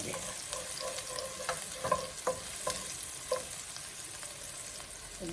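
Garlic fries in a pan for noodles with a gentle, steady sizzle. Light utensil taps and scrapes come at irregular intervals as it is stirred.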